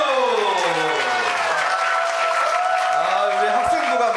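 An audience applauds at an Easter recitation contest of the Westminster Confession of Faith, a loud, sustained wash of clapping running the whole time, with a tonal voice-like sound sweeping through it.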